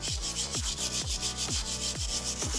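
Steady rhythmic scrubbing with a wire brush against a dirty metal brake part, close and loud, harsh rasping strokes repeating roughly twice per second.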